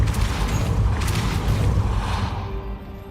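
A Depulso spell is cast in Hogwarts Legacy, a loud, close, booming whoosh of force that rumbles on, then fades out.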